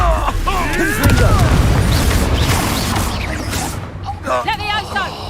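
Confringo fire spell blasts in Hogwarts Legacy, a loud rumbling boom with crackling bursts during a busy fight, under voices shouting through the noise.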